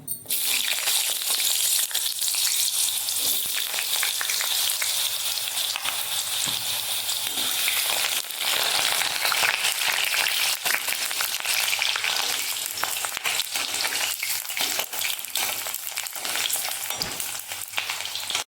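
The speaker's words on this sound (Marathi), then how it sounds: "आता आपण एक एक साहित्य तळून घेऊया" Ingredients for Gujarati undhiyu fry in a pan of oil, one batch at a time, with a loud, dense, continuous sizzle. Scattered crackles and pops run through it, close-up and without any talk.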